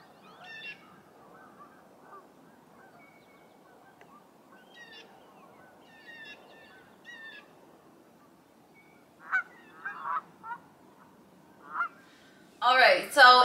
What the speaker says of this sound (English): These are all Canadian geese.